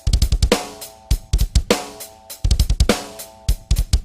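A punchy drum pattern from a drum plug-in on its metal setting, with hard kicks and bright crashing cymbals, heavy and aggressive, repeating in a steady groove.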